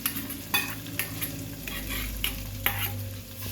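Ghee, cashew and oil tempering being stirred into cooked rice for spicy pongal, a Sankranti dish, with steady scraping strokes and a soft sizzle close by, no voices.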